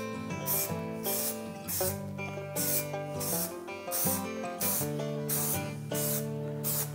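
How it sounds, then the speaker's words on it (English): Short hissing bursts of spray coating are applied to a boat cover patch in regular passes, each spray lasting under a second, heard over steady background music with no speech. "this kinda gives it a nice wide pattern, so I can coat it both ways"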